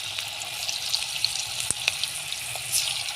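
Cabbage manchurian balls frying in oil over low heat, a soft continuous bubbling sizzle with scattered small pops and crackles.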